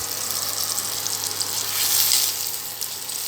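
Milk sausages fry in a pan on an electric stove, a steady close hiss and crackle of sizzling oil that runs continuously and swells slightly midway.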